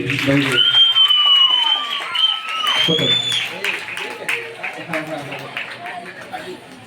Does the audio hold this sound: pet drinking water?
no